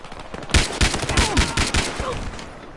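Sharp, loud shots ring out in a quick irregular string of about a dozen cracks from a shooting video game, close and punchy with a short tail after each one.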